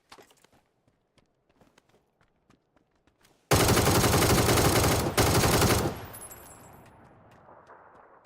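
A sustained burst of loud, close automatic gunfire in a console shooter erupts after a few quiet footstep-like clicks, briefly breaks once, then cuts off and fades into lingering rumble.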